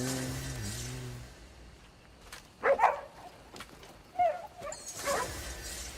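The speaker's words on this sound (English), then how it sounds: "Why does that sound like a sad puppy?" A creature in the video game Crimson Desert lets out a few thin, whiny whimpers like a sad puppy, in short bursts over a quiet ambient game backdrop.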